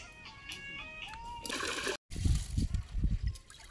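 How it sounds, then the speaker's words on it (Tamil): Water is poured into a hot pan to cook rice, splashing and sloshing loudly for a couple of seconds, with brief voices nearby. "சட்டி காஞ்சிருச்சு, தண்ணி ஊத்திடுவோம்."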